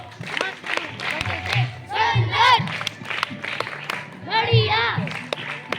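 A ceremony audience at a felicitation event claps in short bursts mixed with a crowd murmur, with someone speaking over the applause in between.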